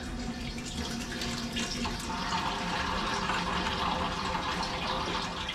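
Cider made from rhubarb and ginger is poured through a colander into a pan, a steady, dense rush of splashing liquid that runs continuously and close by without any talking.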